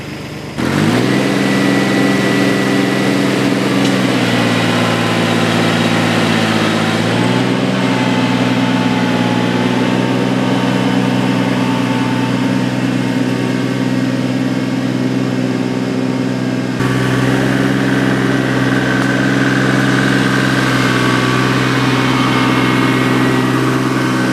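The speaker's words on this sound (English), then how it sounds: "Got that little cultivator on the back, loosening the top up" A tractor towing a small cultivator through a food plot, its engine starting up and then droning steadily and loudly up close for a long stretch, with slight shifts in load and pitch and no voices.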